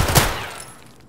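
Pistol gunfire in the video game Escape from Tarkov: a single loud, sharp report right at the start, its echo trailing off within about a second, with no talk over it.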